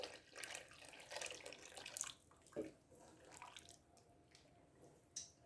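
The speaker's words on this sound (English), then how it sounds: "we're still pouring the broth that I made, the homemade broth" Homemade broth poured into a pot of Louisiana seafood gumbo, a soft, steady liquid splashing and trickling for several seconds, with a few brief louder splashes and drips near the end.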